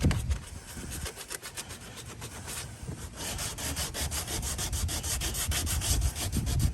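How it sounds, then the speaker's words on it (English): Sandpaper rubbing by hand over Bondo body filler on a cracked plastic bumper of a Chevrolet Volt, a steady rasping scrape in repeated strokes that grows busier and louder toward the end, close and with no talk. "So now we're doing it with the regular sandpaper."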